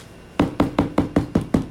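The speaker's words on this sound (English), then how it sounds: "I knock as much glitter off as I can" Seven or eight firm knocks at an even, quick rhythm as a glitter-decorated Halloween pumpkin is tapped to shake loose glitter, each hit close and dull with a short rattle.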